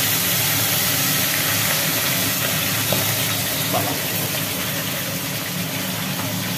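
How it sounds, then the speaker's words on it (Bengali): Fish dropped into hot oil in a home kitchen produce a loud, steady, broadband sizzle that hisses on without pause, with no talking. "তেল গরম হয়ে গেছে, এবার তেলের মধ্যে ছেড়ে দেওয়া হলো মাছ।"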